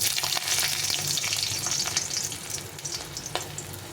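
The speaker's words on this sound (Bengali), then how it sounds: "একটা শুকনো লঙ্কা ফাটিয়ে দিলাম, আর এই রসুনগুলো দিয়ে দেবো তেলের মধ্যে।" Garlic and a dried red chili frying in hot oil in a home kitchen, a steady close bright sizzle with small crackles and pops throughout, no voices.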